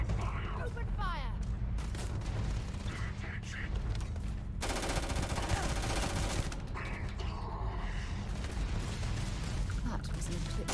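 Sustained gunfire in the sci-fi shooter Starfield, with rapid automatic bursts and heavy booms in a continuous, loud firefight, and voices calling out over the shooting.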